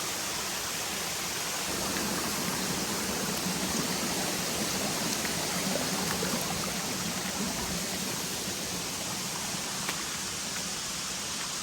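Stream and waterfall on the Finger Lakes Trail: a continuous, dense rush of flowing and falling water, steady and fairly loud throughout, with no voices.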